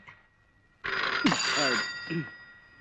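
A telephone in another room starts ringing abruptly after a quiet moment, a steady electronic trill, while a voice speaks briefly over it.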